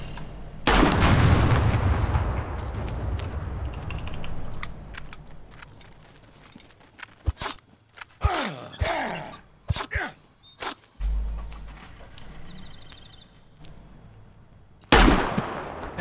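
Gunfire in the survival video game SCUM: a loud opening burst, then a string of sharp separate shots and clanks, with another blast near the end.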